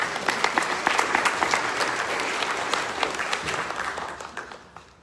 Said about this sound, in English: I think you should give yourself a round of applause for this beautiful sanctuary.